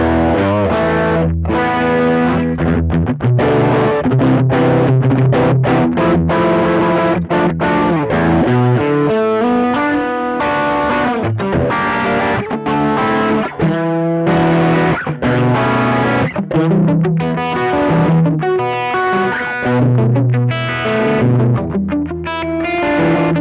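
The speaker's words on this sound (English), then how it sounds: "Let's add the Lila drive, medium to low gain overdrive" Loud electric guitar through an overdrive, crunchy distorted chords and riffs played continuously and up close.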